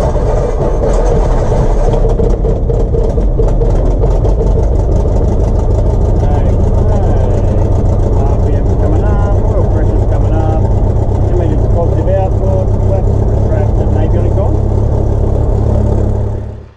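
A Cessna 172 light aircraft's piston engine drones steadily and loudly throughout as the plane taxis toward the run-up bay, a constant close rumble with talk over it.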